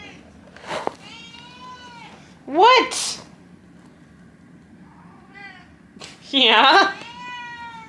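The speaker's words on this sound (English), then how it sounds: "I guess we're talking to the cat." A house cat meows up close, two drawn-out rising meows spaced several seconds apart along with a few softer chirps, while a person talks to it between the calls.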